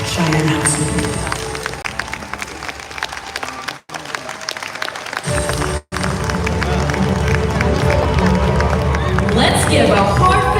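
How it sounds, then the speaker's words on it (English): Audience applause and cheering fill a large hall on a pageant coronation night, a steady dense wash of clapping with crowd noise and music, broken by two brief dropouts before swelling again. "Let's give a heartfelt round of applause as we bid farewell to our reigning queens"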